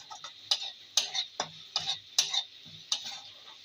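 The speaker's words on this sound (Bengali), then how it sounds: "এবার একবার নেড়ে দেবো।" Spices including coriander powder being stirred in a cooking pan, about eight quiet, evenly spaced scraping strokes of a utensil against the pan over a faint sizzle, with no voices.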